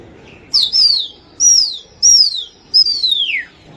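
Racing pigeons, a Giribaz breed, give four clear bright calls at a steady pace, each a sharp rising then falling note, close and fairly loud over a faint low background murmur.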